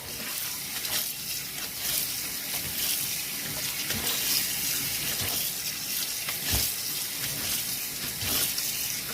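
Cooked Thai rice noodles (khanom jeen) rinsed in plain cold water in a sink, with a steady rush of running tap water and irregular splashes and sloshing, close and constant.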